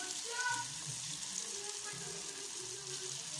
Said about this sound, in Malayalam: ഇപ്പോൾ ഇതൊന്ന് ഫ്രൈ ആവട്ടെ. ഒരു സൈഡ് ഞാൻ തിരിച്ചിട്ടിട്ടുണ്ട്, അടുത്ത സൈഡ് ഫ്രൈ ആവട്ടെ.